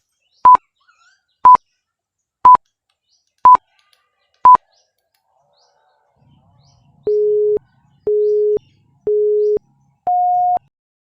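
A telephone dials with five evenly spaced single tones, then after a short pause a lower busy signal pulses four times. The tones are loud and clean, with no voices.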